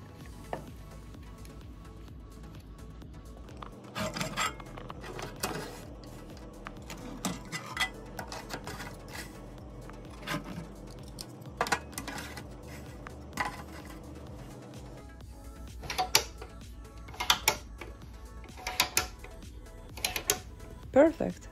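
Small screws and metal trays handled while mounting 2.5-inch drives into a TerraMaster F4-425 Plus NAS, scattered light clicks and metallic ticks under a steady background hum.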